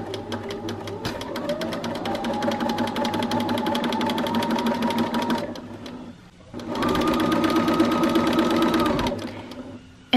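A sewing machine runs a seam straight through without backstitching, a loud close mechanical whir in two long bursts separated by a brief pause.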